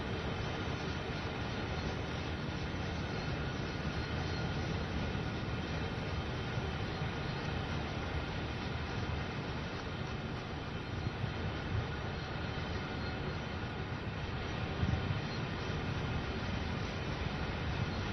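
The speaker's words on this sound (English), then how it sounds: "These are TTX boxcars" A BNSF freight train hauling TTX boxcars rolls past close by, a dense, steady rumble and rattle of wheels and cars that holds at an even level for the whole stretch, with no talking.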